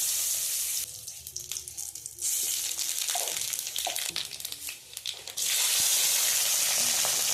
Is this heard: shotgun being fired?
no